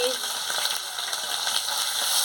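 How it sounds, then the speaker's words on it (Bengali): Spice paste with ginger paste, chopped tomato and turmeric powder fries in a pan for a soybean-and-gram-flour fritter curry, crackling steadily with occasional stirring scrapes. "মশলাটাকে ভালো করে ভেজে নিচ্ছি"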